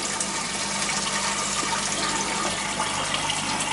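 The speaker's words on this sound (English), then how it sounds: "drain out the liquid." Liquid drained from a container holding floating gold foils recovered from RAM sticks, a steady rushing, gushing pour that runs continuously and fairly loud throughout.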